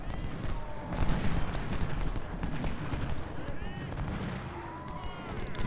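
Artillery and rifle fire in the Ultimate General: Civil War game, a dense, continuous clatter of rapid shots and booms at mid distance, with horse hooves and battle noise beneath a talking voice.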